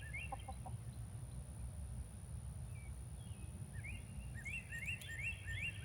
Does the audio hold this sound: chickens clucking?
yes